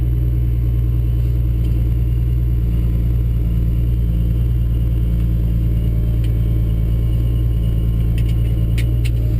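A 1971 Datsun 240Z engine idles steadily with a deep, even rumble throughout, close and loud, with a few faint clicks near the end.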